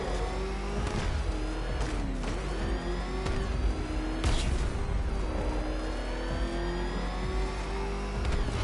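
The Batmobile's engine in the Batman Arkham Knight video game revs loud and close, a continuous roaring drone that keeps rising and falling in pitch with sharp surges throughout.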